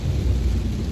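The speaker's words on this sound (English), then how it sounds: "The rain has started." Steady rain falls outside during a prolonged stretch of wet weather, a dense, constant hiss with a heavy low rumble underneath, continuous and fairly loud with no talking.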